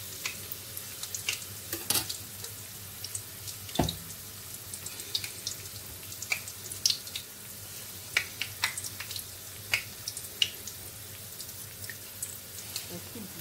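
Puff puff dough drops into hot oil and fries with a light, busy crackle and scattered sharp pops and splashes, fairly close and moderately quiet, continuing steadily throughout.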